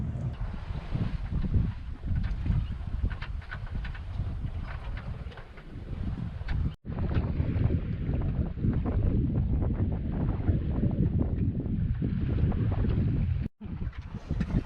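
Sailboat under sail in wind: a steady, loud rush of wind and water noise fills the whole stretch, broken by two brief dropouts.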